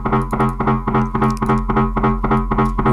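Distorted synth sound treated with short reverb before the distortion, from a track in the studio, pulsing in rapid, even stabs over a steady low drone, loud and alone.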